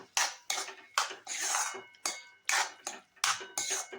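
A utensil clinks against a pan while stirring sweet corn in white sauce with a little salt, giving about eight sharp, regular scraping knocks close by, with no talking.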